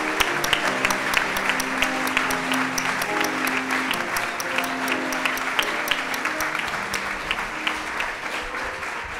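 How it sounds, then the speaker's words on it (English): A crowd applauds at a Rotary humanitarian awards ceremony, with steady, even clapping from many hands that holds for several seconds without pause. "Please award Maria with your applause."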